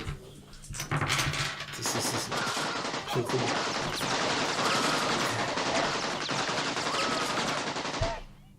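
Sustained automatic gunfire from Counter-Strike rattles nonstop for about eight seconds, dense and loud, with shots overlapping into a continuous barrage before cutting off abruptly.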